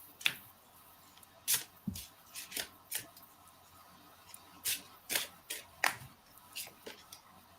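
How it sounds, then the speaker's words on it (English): A deck of cards is shuffled up close in quiet, crisp bursts of riffling clicks and snaps, with pauses between passes in an otherwise hushed room. "when I was shuffling the cards"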